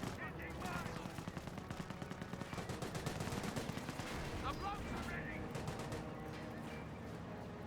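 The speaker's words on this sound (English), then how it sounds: "Hummel heard the artillery barrage and does dodge it." Artillery barrage in the Company of Heroes 1 strategy game, a dense, continuous roll of booming blasts and rapid gunfire crackle that keeps up for several seconds, loud and close with no pause.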